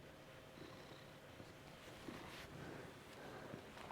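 A pet cat purrs very softly and steadily in a quiet room, a low continuous rumble with faint irregular rustles and no talking.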